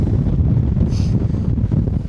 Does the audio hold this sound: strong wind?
yes